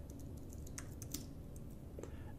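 Fingers type on a computer keyboard while entering code into a Google Colab notebook cell, producing a quiet, steady patter of soft clicks with a few sharper keystrokes, close and alone.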